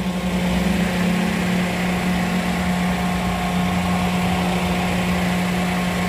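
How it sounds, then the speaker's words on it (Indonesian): A used car's engine idles smoothly and evenly at close range, a steady low hum with no knocks or odd noises, alone without talk. "Terus suara mesinnya pun juga masih halus, nggak kemerosok, nggak ada suara-suara aneh-aneh."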